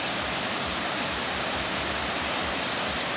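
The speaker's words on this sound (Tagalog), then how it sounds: "Here's the waterfall." Waterfall at a spring resort, a dense, steady broadband roar of falling water heard close and loud with no voices over it.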